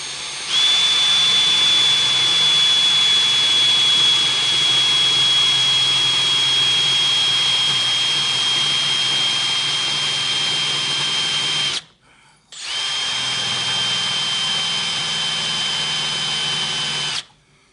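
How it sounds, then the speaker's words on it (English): A homemade improvised lathe turns down a metal punch, giving a loud steady high-pitched whine that runs continuously, stops briefly near the end, then resumes at the same level. "I'm using my redneck lathe to turn down another punch"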